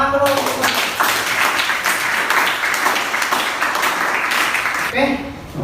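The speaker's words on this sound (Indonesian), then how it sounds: "Tepuk tangan dulu." A classroom group applauds during a teaching practicum session, a loud, brisk burst of clapping and taps lasting several seconds before it dies away near the end.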